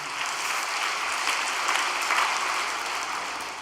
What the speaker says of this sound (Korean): 격려의 박수 한번 부탁드리겠습니다